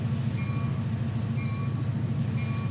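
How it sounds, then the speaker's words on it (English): A locomotive in the Rails Unlimited game rumbles steadily with a dense low engine drone and faint higher tonal whines, continuous and fairly loud with no talk. "there is a locomotive on my tail"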